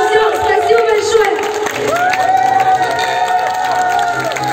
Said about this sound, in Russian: Громкие овации и аплодисменты от руки!